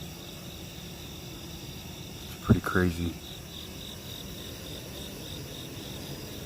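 A steady, faint high-pitched drone of bees buzzing at two hives runs throughout, with a brief spoken remark in the middle.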